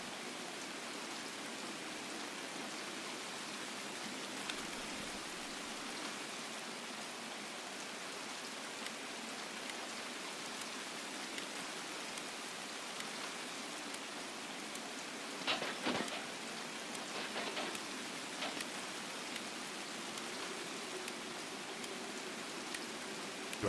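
Rain in the Escape From Tarkov video game, a steady hissing downpour on surfaces lasting throughout, with a brief louder rustle and clatter of movement midway.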